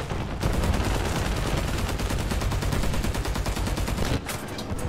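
Rapid, continuous automatic gunfire from an aircraft's guns in War Thunder, loud and close, hammering steadily for about four seconds before cutting off abruptly.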